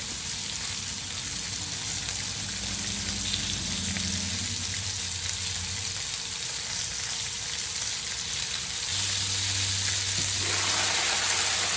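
Butter and garlic sizzle steadily in a pan alongside porgy fish for a Jamaican brown stew, a constant dense frying hiss with a low hum underneath, close and continuous.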